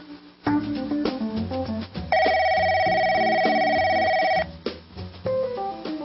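A telephone ringtone chimes loudly in a steady electronic pattern layered over background music, rising to a sustained ring in the middle before it cuts off, as if just before the call is answered.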